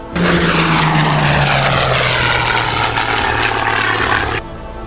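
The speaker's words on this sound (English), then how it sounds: "It is, of course, the Spitfire." A model Spitfire aircraft flying past at a model show, its propeller engine a loud, sustained roar that stays close and steady for several seconds before cutting off abruptly near the end.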